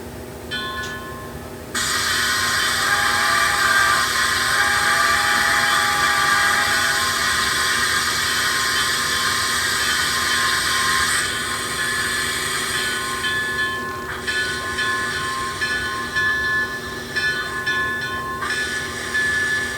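Bachmann N scale 2-8-0 Consolidation model locomotive running with its sound decoder, a steady loud chuffing and mechanical rumble with a bright hissing layer, continuing alone for the whole stretch.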